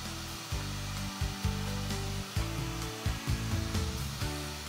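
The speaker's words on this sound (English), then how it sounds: "I'll make a full plunge cut at the start of the mortise and a full plunge cut at the end of the mortise" A router making plunge cuts to rout a mortise in wood, a loud close whining motor with several short cuts and pauses as the bit plunges and lifts.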